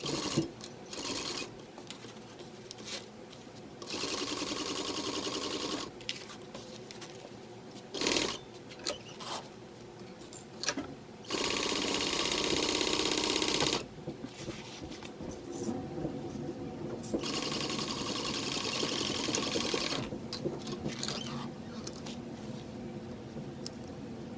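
A sewing machine stitches a zipper into a fabric bag in bursts of rapid mechanical stitching, stopping and starting several times with quiet handling noises in the pauses.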